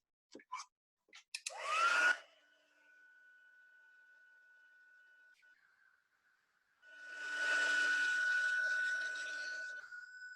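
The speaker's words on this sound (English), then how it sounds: "I'm just going to dry those off with the heat gun again" A heat gun drying ink on stamped paper for card-making: a steady whirring blower hum runs through most of the clip, quieter in the middle and louder toward the end, after a few clicks and brief handling noises.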